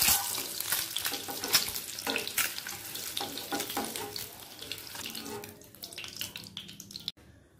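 A halved bay leaf and a split dried red chili sizzle in hot oil and ghee left over from frying eggs, a steady crackling hiss with stirring scrapes, tapering off near the end.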